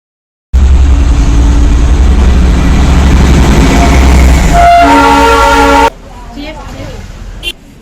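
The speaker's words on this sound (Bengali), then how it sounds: "তো ফাইনালি ট্রেন চলে এসছে, এখন ট্রেনে উঠে পড়েছি। এবার ট্রেন ছাড়ার অপেক্ষা রয়েছে।" Inside a carriage of the 12363 Kolkata to New Jalpaiguri train, a loud steady rumble with a sustained horn toot, then a sudden drop to quieter cabin ambience with faint talk.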